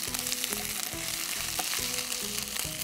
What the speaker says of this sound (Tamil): இதில் இஞ்சி பூண்டு, இஞ்சி பூண்டு நல்லா வதங்கணும்